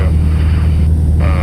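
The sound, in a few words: small light aircraft engine in flight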